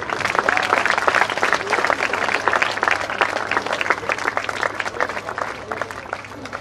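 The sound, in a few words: applause at a school prize distribution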